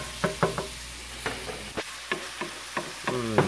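Ground steak browning in a pan on a stove over medium-high heat, a low sizzle under a series of distinct spatula scrapes and clanks, near and fairly quiet, no one speaking.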